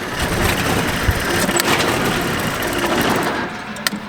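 A car engine with a slowly dying battery idles roughly nearby, a ragged, uneven rumble with a few sharp knocks and clicks breaking through toward the end. There is no talking.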